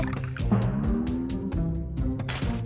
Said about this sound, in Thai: น้ำแอปเปิลไซเดอร์ ใช่แล้ว รินมาลงบนผมของเพื่อนๆ